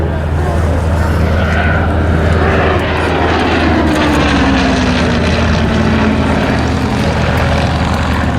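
Hawker Hurricane fighter with a propeller engine, droning steadily and loudly overhead, a continuous aircraft roar that swells slightly as it passes at a Battle of Britain display at RAF Cosford.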